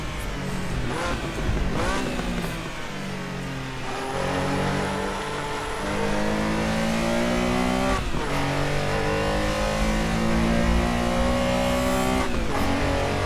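A race car engine in the Assetto Corsa driving game screams at high revs, climbing and dropping through gears and pushing into over-rev, loud and continuous with no talking.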